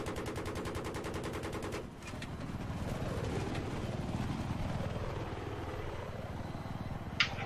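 Helicopter rotor thrum and rattling gunfire in the video game Battlefield 3, a steady loud mix of engine drone and rapid shots, with a sharp crack near the end.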